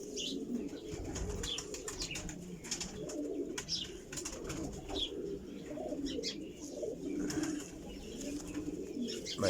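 A female choha breed pigeon coos close by in low, repeated throaty rumbles that run steadily throughout, with faint chirps and rustling in the background.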